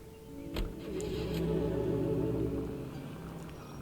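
A car in L.A. Noire pulls away with an engine hum that swells and then holds steady, a short thump at the start, no talking.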